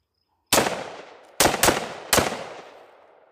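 Gunshots from a firearm fitted with a Tacti-Net brass catcher, four sharp loud reports heard alone: one shot, a pause, then two close together and a final one, each ringing out briefly.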